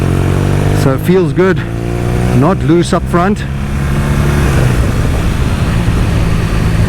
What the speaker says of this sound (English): the thing I'm impressed about immediately is the motor, the sound of the motor, and the way the torque builds and pushes you forward